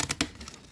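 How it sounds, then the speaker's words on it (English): Kitchen scissors slicing through cardboard, a few quick crisp snips and crunches close by in under a second, alone with no talking. "Cardboard and scissors are not normally a good combination."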